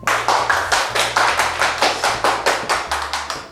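Brisk rhythmic hand clapping, roughly a dozen claps in a quick even beat, close and crisp during a Korean balloon-craft session, with no talk over it.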